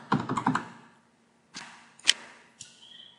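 Someone types on a computer keyboard in software: a short quick burst of close key clicks, then a pause and a few separate sharper key taps.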